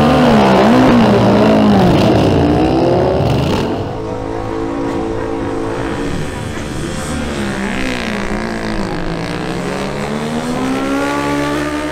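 Honda XR200R and Honda CBR1000RR motorcycles accelerating at a drag race, loud engines rising and falling in pitch through the gears, one bike close then fading into continued revving.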